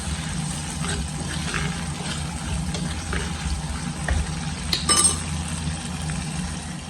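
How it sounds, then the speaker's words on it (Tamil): Steady low sizzling and frying of chopped shallots in a clay pot, with a few soft clinks of a utensil against metal near the end. "சின்ன வெங்காயம் பொடி பொடியாக நறுக்கி வச்சுருக்கேன் அதையும் போட்டு நல்லா வதக்கிக்கிடுவோம்"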